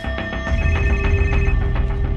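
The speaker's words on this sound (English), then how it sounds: "it isn't long before the phone starts ringing with tips" A telephone rings in a rapid repeating electronic trill, loud and close, over a low rumbling background hum.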